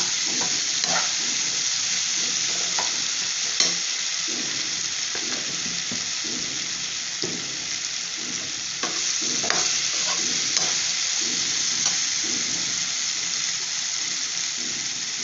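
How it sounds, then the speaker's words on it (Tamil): Slices of raw banana fry in a pan with a steady, close sizzle throughout, broken by occasional stirring scrapes and small pops; no one speaks. "நல்லா கொஞ்சம் ஃப்ரை ஆகட்டும்"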